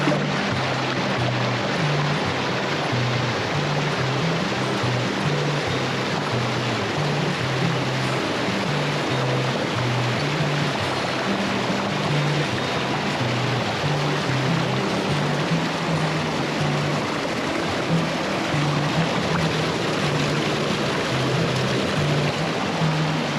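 Steady rushing creek water in Oklahoma heat, a broad continuous wash of flowing stream noise that stays even and close throughout, with no voices.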